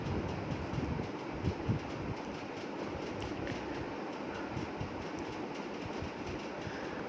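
Inside a packed commuter train on a morning run, a constant low rumble and rattle of the moving carriage fills the space, with occasional soft knocks and no clear talking.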